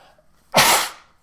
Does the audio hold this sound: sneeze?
yes